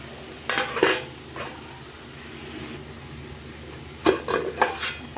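A metal lid clatters onto a pan of frying moringa drumsticks in two clusters of sharp clanks, near and loud, separated by a quieter stretch of low background sizzle.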